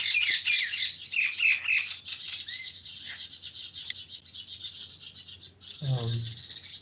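Many birds outside a room chirp and tweet in quick, bright, repeated bursts for the whole stretch, moderately loud and steady, with a brief low voice-like sound near the end.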